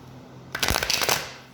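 A quick riffle of a Haindl tarot deck being shuffled close up, a short crisp burst of flapping after a moment of quiet.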